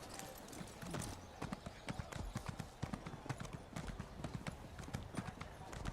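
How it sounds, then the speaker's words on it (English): Horse hooves clip-clop steadily as a mount trots through Greymoor in the video game Elder Scrolls Online, a quick, even rhythm over soft ambient game sound. "Let's hop on my horse."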